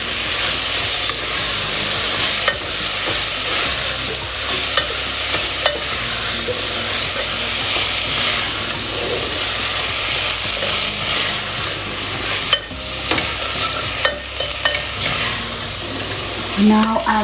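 Garlic soup ingredients with thyme and black pepper being stirred in a hot pan, a steady sizzling and scraping that runs continuously with occasional clinks of the utensil.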